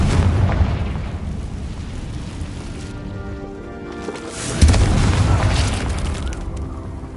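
A Confringo blasting spell goes off in a game as a deep booming explosion, its rumble fading away before a second sharp blast hits and rolls on.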